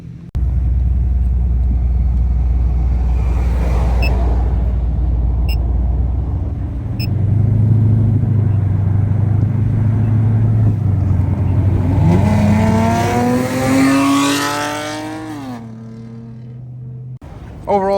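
A 3.6 V6 engine with an aftermarket exhaust idles with a deep low drone, then revs in stepped climbs to a rising roar before dropping back, loud and close with no talking.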